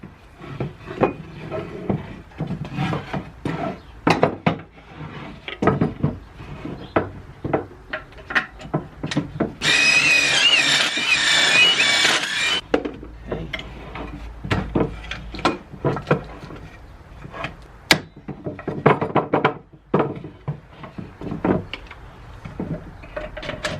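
Pocket holes being drilled into scrap wood with a Kreg jig for a chunky end table, a steady bright whine of the drill lasting a few seconds amid scattered knocks and handling clatter.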